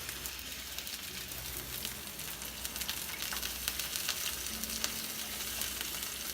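Shrimp for a seafood paella sizzle in a hot pan with olive oil, a steady dense crackle that holds evenly throughout at moderate volume, close by, with no talking.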